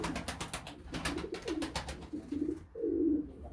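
Pigeons coo softly in a series of low, rolling calls, fairly close, amid scattered clicks and flutter-like taps, with no talking.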